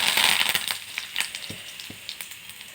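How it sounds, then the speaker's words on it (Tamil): Broken dried red chillies, mustard seeds, cumin, asafoetida and curry leaves fry in hot oil, with a loud crackling burst at the start that fades into scattered pops and spoon scrapes. "கிள்ளி வச்ச மிளகா வத்தல் எல்லாத்தையும் வறுத்துக்கோங்க லேசாக"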